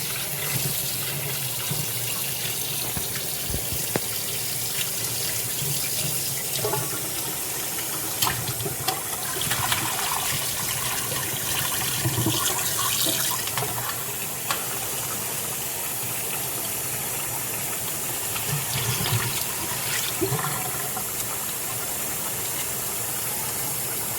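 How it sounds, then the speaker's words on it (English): Tap water runs steadily into a sink while rice is rinsed until the water turns clear, a continuous loud gush with faint clinks and no talk. "You want to wash the rice until it's completely clear, until you could see like through it."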